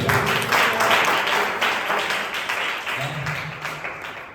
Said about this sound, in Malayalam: സന്തോഷമുള്ളവരെല്ലാം നല്ല കൈയ്യടി